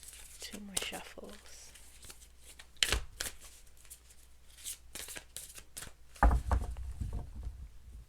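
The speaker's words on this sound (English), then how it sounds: "2 more shuffles." Playing cards being shuffled at close range in a tarot-style reading, quick riffling bursts spread across the stretch, with a louder flurry near the end and a voice talking between them.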